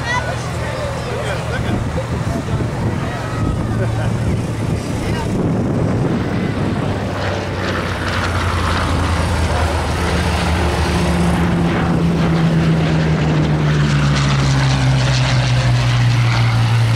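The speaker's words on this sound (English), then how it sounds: "if you look to the north, you'll see our airplanes returning" WWII propeller fighter planes drone loudly and steadily overhead at an air show, rising in pitch as they pass, with crowd noise and a voice underneath.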